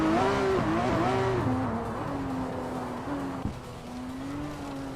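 SR8 race car engine in a racing video game, a steady loud drone with the pitch dipping and surging across gear shifts, faint tire noise beneath and one brief knock.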